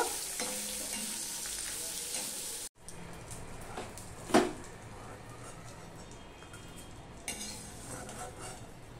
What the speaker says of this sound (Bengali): এবার ডিমগুলো আমি হালকা করে ভেজে নেব